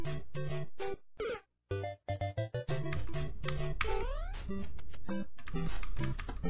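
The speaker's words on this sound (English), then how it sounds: "Oh, I almost broke my keyboard." A computer keyboard is hammered hard and fast during a frustrating Mario game, loud close clacks and bursts of keystrokes with the game's bright music and sound effects running underneath.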